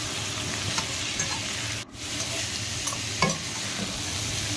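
A vegetarian curry of drumstick, potato and pumpkin with turmeric sautéing in a pan, a steady dense sizzle with occasional stirring scrapes and one brief lull.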